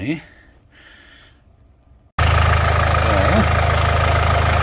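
A Land Rover Discovery Sport 2.0 diesel engine cranks and fires after a quiet stretch with a voice, then settles into a loud, steady, close idle with a low rumbling drone.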